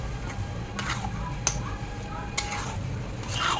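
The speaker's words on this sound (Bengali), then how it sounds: "তো এটা ভালো মতন এখন মিশিয়ে নেব। মিশিয়ে ভালো করে কষিয়ে নেব।" A spice paste with turmeric and green chilli is stirred in a sizzling pan, with soft scraping and a couple of sharp utensil clicks under a person speaking nearby.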